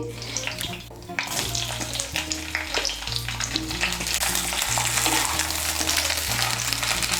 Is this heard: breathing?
no